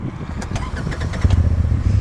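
A 2016 Polaris Turbo 1000 side-by-side UTV engine cranks with a few quick bursts, then settles into a low, steady idle rumble close by.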